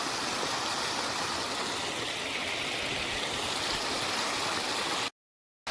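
River water flows steadily past, a dense, continuous rushing wash that holds at one level, then cuts off abruptly just before the end.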